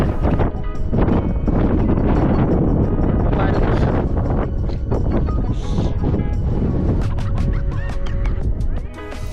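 Strong wind buffets the microphone outdoors on Mt. Pulag in bad weather, a loud, continuous roaring rumble with gusting surges and some faint higher-pitched sounds near the end.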